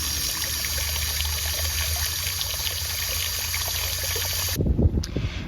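Water trickles and splashes steadily in a garden fountain or bird bath outdoors, a constant close hiss of flowing water that stops abruptly near the end, followed by a few faint knocks and rustles.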